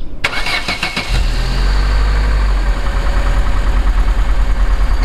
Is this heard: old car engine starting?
yes